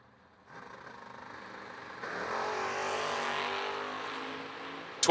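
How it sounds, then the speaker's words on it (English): Drag racing cars, a Chevy II Nova and a third-generation Camaro, rev and launch at a Mini-Million event, a rising engine roar that swells loudly after two seconds and holds steady, with a sharp burst at the very end. "Nauman right-hand side dials in 560 in the Chevy 2 Nova. 612 for Drew Buckner in the third-gen Camaro left side"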